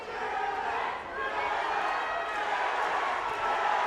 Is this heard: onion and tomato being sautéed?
no